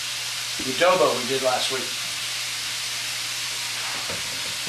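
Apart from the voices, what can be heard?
chicken sautéing and sizzling in a pan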